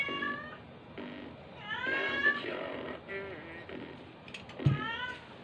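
A cat meows several times, drawn-out and wavering, with a louder cry near the end; background noise and some talking are mixed in.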